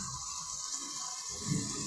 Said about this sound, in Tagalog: Ito na tayo sa malapit na sa ilog. Ayan yung ilog.